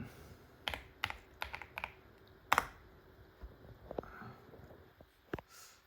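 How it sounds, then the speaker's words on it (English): Scattered keystrokes on a computer keyboard as a root password is entered, a handful of quiet, close clicks in irregular bursts with gaps between them. "Type in root password, the one you set."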